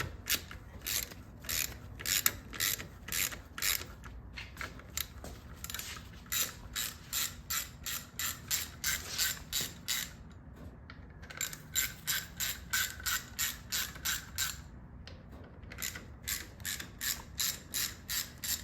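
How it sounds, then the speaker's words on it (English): A hand ratchet backing out the oil cover screws on a 2021 Royal Enfield Himalayan during an oil change: quick, faint clicking pawl strokes in a steady rhythmic series, pausing briefly a few times between screws. "you can see it's already draining as I'm backing these screws out"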